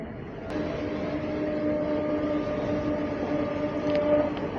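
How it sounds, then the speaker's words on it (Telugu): Machilipatnam Express rolling out from Bhimavaram Town, heard from inside a 3A coach: a steady low rumble of wheels and carriage with a faint sustained hum, building slightly, no speech. "భీమవరం టౌన్ నుంచి అయితే స్టార్ట్ అయిపోయింది మన ట్రైన్."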